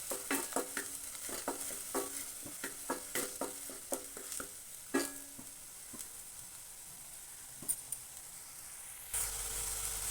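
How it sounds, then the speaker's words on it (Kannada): Onion paste fries in a pan on low heat, with a faint steady sizzle under a series of sharp spoon-scraping stirs that thin out toward the end. "ಇದನ್ನು ಅಷ್ಟೇ ಚೆನ್ನಾಗಿ ಫ್ರೈ ಮಾಡಬೇಕು, ಹಸಿ ವಾಸನೆ ಹೋಗೋವರೆಗೂ"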